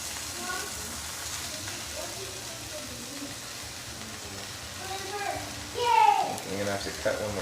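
Roast pork sizzles in a hot pan with a steady close hiss and a louder crackling burst near the end, under quiet background noise.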